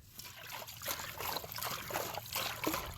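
Water sloshing and trickling inside a small, roughly one-gallon waterlogged well pump bladder tank as it is shaken, a continuous close, moderately loud swishing with no voices.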